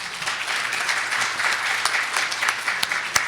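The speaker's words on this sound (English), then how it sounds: "a real good round of applause for Ben, Sean, Christopher, and Amanda." An audience at a school committee conference gives a moderate round of applause, steady clapping with a few sharper individual claps, heard from a little distance.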